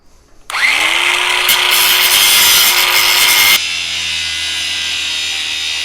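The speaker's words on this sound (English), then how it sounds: "You got to take your grinder again. Now you're going to cut this into a hypodermic looking needle type thing." An angle grinder shapes a metal piece into a hypodermic-needle-like point, used to remove a stuck fitting with broken threads. The grinding whine is loud and steady for about three seconds, then cuts off to a quieter ringing hum.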